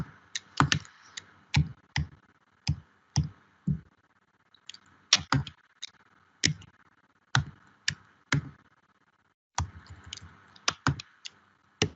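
Computer keyboard typed on during a Git and GitHub coding talk, irregular bursts of sharp close clicks separated by brief pauses, with no talking over them.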